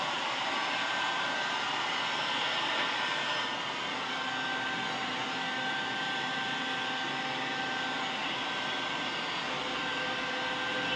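A hair dryer blows air continuously at close range, a steady loud whooshing whir with a faint high whine and no pauses, while a woman drying her hair goes unheard.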